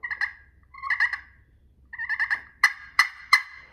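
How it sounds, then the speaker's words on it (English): A hand-operated pot-style turkey call with a glass playing surface makes soft rolling purrs in short bursts, ending with three sharper clucking pops, close and clear. "A light drag for a purr."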